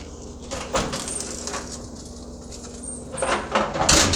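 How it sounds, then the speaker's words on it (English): Chicken wings frying in hot oil for a keto recipe give a steady, close crackling sizzle with bursts of popping, running on its own without any voices. "They're frying inside their skin is what's happening right now."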